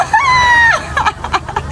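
A rooster crows once, loud and close, a long drawn call that falls away at the end, followed by scattered clucks and rustling on a property in the Brazilian Caribbean region in winter.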